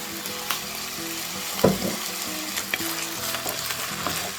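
Soy sauce sizzling in a hot pan with golden-browned chicken pieces, a continuous close frying hiss with scattered stirring knocks and one sharper clatter near the middle.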